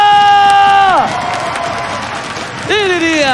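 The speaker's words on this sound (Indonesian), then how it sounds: "mana tepuk tangannya?" Esports arena crowd cheering and clapping during a match, a loud, roaring wall of noise with sweeping synthesized tones gliding down and then rising again over the top.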